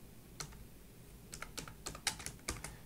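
Keys tapped on a computer keyboard while entering plot labels in gnuplot: a quiet, close run of a dozen or so light clicks in uneven bursts, alone without talk.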